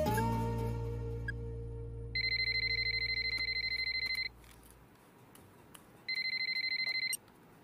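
A telephone ringing on an outgoing call: two bursts of electronic ringing separated by a pause, fairly faint, after a fading tone.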